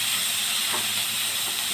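Green beans tipped into a hot pan hiss with a steady, close sizzle for Kerala-style beans thoran, an even rush of steam with no talk.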